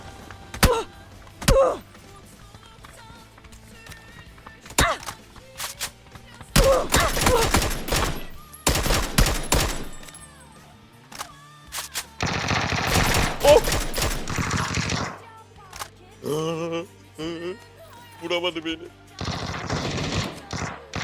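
Rapid bursts of automatic gunfire from a PUBG battle, loud and close, with several separate volleys and single shots spread across the stretch and gaps of quiet between them.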